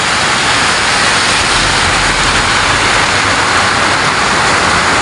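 A heavy afternoon downpour roars as a steady, dense hiss, loud and unbroken throughout, with no voices.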